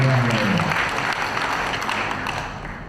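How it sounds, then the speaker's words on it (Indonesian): An audience applauds the Governor of Bali at a ceremony adopting a regional regulation, steady dense clapping filling the hall and slowly easing off, with some voices mixed in at the start. "Tepuk tangan untuk Gubernur"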